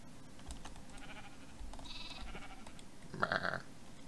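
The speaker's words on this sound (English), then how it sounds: "Yes, I have my sheep." Sheep in the video game Minecraft give short bleats over a soft game background, faint and spaced out, with one louder, closer bleat near the end.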